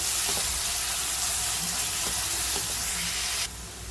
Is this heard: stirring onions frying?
yes